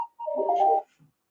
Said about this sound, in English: Who's got the same ringtone as me?